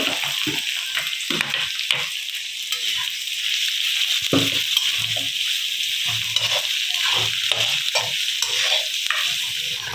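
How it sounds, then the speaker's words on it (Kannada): Chopped garlic and onion fry loudly in hot oil for a Gobi Manchurian dish: a continuous hiss with repeated scraping stirs, close and steady throughout. "ಎಣ್ಣೆ ಕಾದ್ಮೇಲೆ ಹೆಚ್ಚಿಟ್ಕೊಂಡಿದ್ದಂತಹ ಬೆಳ್ಳುಳ್ಳಿನ ಇಲ್ಲಿ ಹಾಕೊಂಡಿರೋದು ಇದ್ರ ಜೊತೆಗೆ ಇವಾಗ ಈರುಳ್ಳಿ ಹೆಚ್ಚಿಟ್ಕೊಂಡಿರೋಂತಹ ಈರುಳ್ಳಿ"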